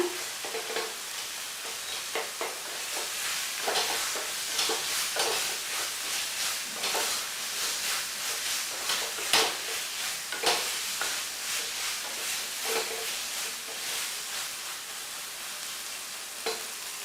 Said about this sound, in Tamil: இதில் மசாலா வாசனை போகிற அளவுக்கு இதை நல்லா வதக்குங்க.